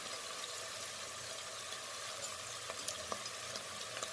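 Cardamom pods fry in two tablespoons of hot oil for chicken biryani, giving a steady, fairly quiet sizzle with a few soft stirring clicks near the end.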